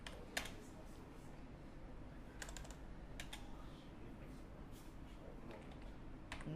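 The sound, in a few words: typing on a computer keyboard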